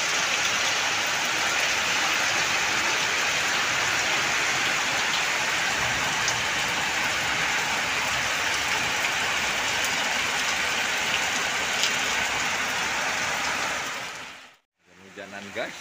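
Rain falls steadily and heavily at a boat pier, giving a dense, continuous hiss of drops on surfaces close by. It cuts out abruptly near the end.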